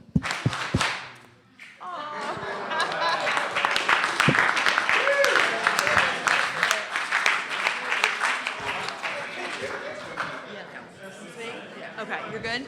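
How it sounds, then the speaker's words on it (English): An audience at a Washington DC learning event bursts into sustained clapping on cue, a dense crowd applause lasting several seconds, with chatter and voices around it. "When I say 1, 2, 3, go, you clap."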